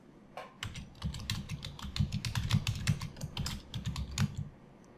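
Rapid keystrokes clatter on a computer keyboard while entering a package name in an Overleaf LaTeX document, a steady burst of close, crisp clicks with brief pauses, no voices.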